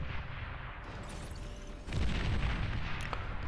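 Agitator turret firing in the Beyond All Reason strategy game during an 8v8 match, a steady stream of rumbling artillery-like shots that grows louder and denser halfway through, continuous with no pauses.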